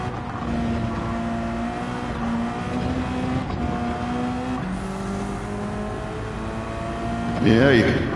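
A race car engine revs hard in Gran Turismo 7, holding a loud droning tone with shifting pitch and climbing sharply near the end, while a voice talks over it.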